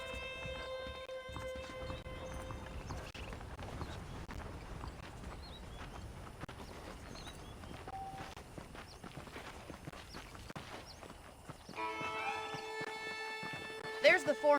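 Saddled horses in the Red Dead Redemption video game, their hooves clopping at a walking pace close by alongside footsteps and ambient game sound, with brief musical tones near the start and end.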